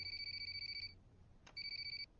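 A phone rings with a bright electronic two-tone trill in two bursts separated by a short pause and a brief click, clear and close against a quiet room.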